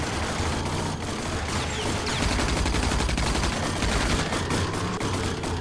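Rapid machine gun fire from the video game RAGE rattles continuously and loudly along a highway drive, a dense sustained burst with no pauses.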